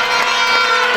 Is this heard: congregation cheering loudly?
yes